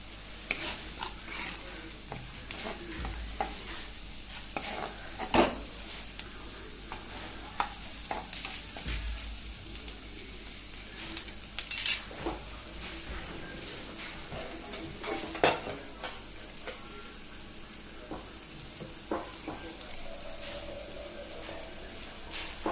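Onions frying in a pan for homemade noodles, stirred throughout with repeated metallic scrapes and clinks of utensil on pan over a constant close sizzle.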